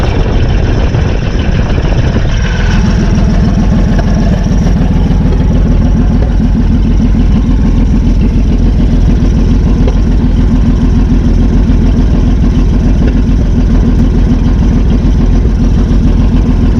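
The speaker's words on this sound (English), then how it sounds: "I think now it's just kind of an exhaust leak." A 1955 Plymouth Plaza station wagon engine with an exhaust leak idles steadily up close with a loud, rough, ticking rumble that continues without a break.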